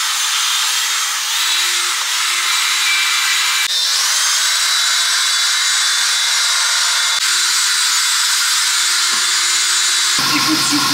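A wire brush scrubs rust off a steel wheel rim, giving a steady, loud, harsh scraping that runs nonstop at close range and shifts slightly in tone as the strokes change.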